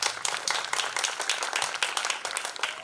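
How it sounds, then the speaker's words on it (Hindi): An audience at a theatre festival claps loudly for the director of a play, a close and brisk burst of clapping with sharp individual claps, and no talking over it. "जोरदार तालियां इनके लिए।"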